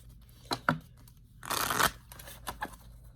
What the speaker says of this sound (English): Everything has been pre-shuffled, so I just shuffle quickly and get right into it.